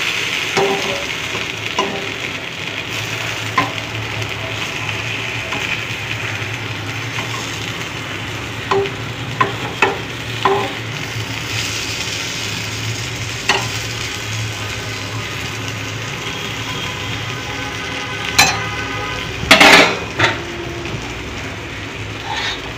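Eggplant slices fry in a covered pan with very little oil, giving a soft continuous sizzle with occasional light clicks and taps, then a few louder clattering knocks near the end.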